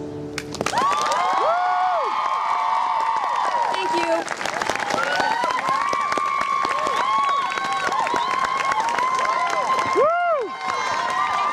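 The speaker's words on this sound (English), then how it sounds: "Can we get one more applause for her?" An audience applauds at a Take Back the Night event, steady dense clapping that keeps going for several seconds while a voice briefly speaks over it.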